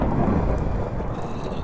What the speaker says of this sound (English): Sorry about the thunder in your ears.